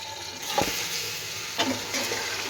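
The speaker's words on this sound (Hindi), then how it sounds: "गोश्त को हम तकरीबन 5 मिनट तक जो है इसको घी में फ्राई करेंगे।" Mutton frying in hot oil and ghee for nihari, a close steady sizzle with a couple of brief spattering bursts as the meat is moved in the pot, no talking.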